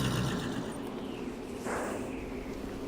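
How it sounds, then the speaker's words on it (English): A horse whinnies in a Game of Thrones video game, loud and close, one drawn-out neigh followed by a second rising call, with faint hoof clops beneath. "I think my horse is calling me"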